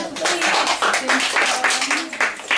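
Children at a school reading ceremony for first-graders applaud in several bursts of clapping, with an adult voice speaking over and between the claps.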